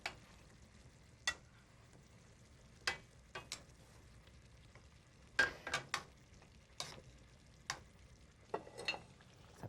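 Pork frying in a pan: a quiet, low sizzle broken by sharp, scattered clinks and scrapes of a utensil against the pan, some single and some in quick clusters, with no speech.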